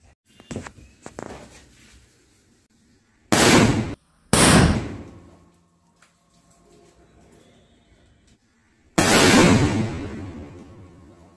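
Kannan Digital Bomb 12 firecrackers from Sivakasi detonate outdoors in three loud, sharp blasts, the last one with a longer ringing tail, between quieter clicks and faint background noise.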